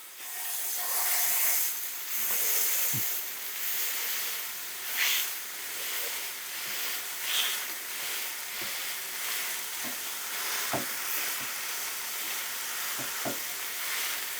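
Two flattened beef patties fry in lard on a hot grill, giving a steady, close hiss of sizzling with occasional faint clicks and scrapes throughout.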